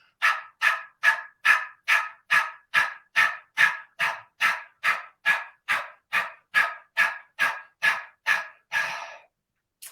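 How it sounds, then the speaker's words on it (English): A person panting forcefully through the mouth like a dog during a beginner yoga breathing exercise: about twenty evenly spaced, sharp breath bursts in a steady rhythm, close and clear, ending in one longer exhale. "just pant like a dog out through the mouth"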